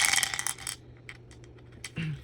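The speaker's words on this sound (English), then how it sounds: "already dropping the dice" Dice are dropped onto a surface and roll during a board game, making a bright, rattling clatter for under a second. A few softer clicks follow as they settle, with no one speaking.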